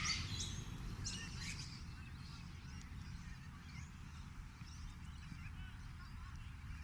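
Sulphur-crested cockatoos give harsh, raucous calls in a short burst near the start, with softer scattered squawks afterward over a steady low rumble of background noise.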